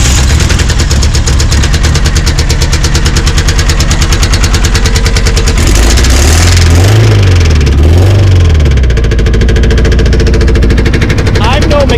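A Dodge Neon with a swapped 2.4-liter naturally aspirated big cam engine cranks and runs, giving a loud, choppy idle with a rapid lopey pulse and a couple of brief revs near the microphone.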